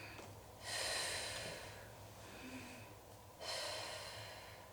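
Slow, deep breaths during a gentle cardio exercise: two long airy exhales a few seconds apart with a softer inhale between, close and quiet.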